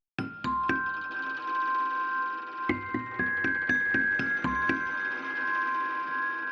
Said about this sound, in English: We got their tuning fork sounds, more of a closer kind of sound.